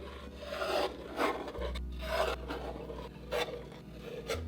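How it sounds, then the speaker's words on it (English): A blade scrapes thick paint off an abstract painting in several close, rasping strokes, each a short rough scrape with small pauses between them, heard alone at a fairly low level. "What if I just scrape everything off?"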